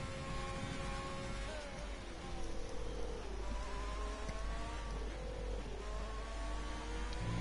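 Racing car engine on a fast lap in a racing video game at the Belgium round, a faint, steady motor whine with pitch shifting gently up and down as it gathers speed, distant and low in level.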